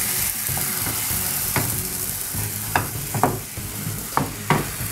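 Filloa crepe batter sizzles in a greased frying pan, a steady close hiss with a few scraping and tapping knocks as the pan is moved, no talk.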